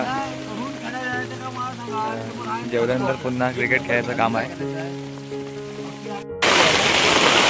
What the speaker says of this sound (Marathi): पाऊस आला बघा जोरात